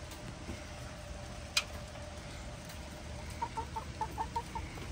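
Backyard chickens cluck faintly in the morning, a quiet series of soft rhythmic clucks in the last couple of seconds over a hissy background, with one brief sharp sound near the start.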